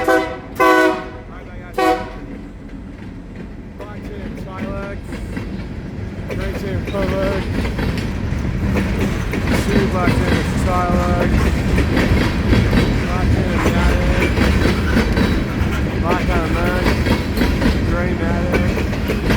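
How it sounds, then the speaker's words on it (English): A train led by locomotives 598 and 595 approaches with loud horn blasts, then its wagons pass close by with a steady, rolling clickety-clack that carries on to the end. "we have a train coming right now."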